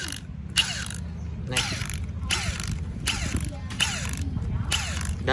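A Makita XWT13 cordless impact wrench with auto stop hammers in short repeated bursts, roughly six rattling impact runs spaced about a second apart, close and loud over a low background hum, with a single brief spoken word.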